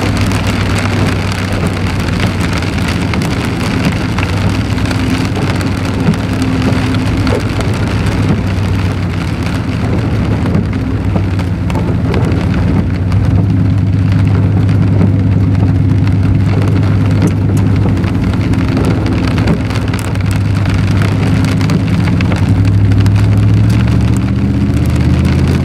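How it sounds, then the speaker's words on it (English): Heavy rain drums steadily on the roof and glass of a car during a downpour with standing water on the road, a dense continuous wash with a low engine rumble underneath, loud and unbroken throughout. "Yeah, it's a good heavy rain out there right now."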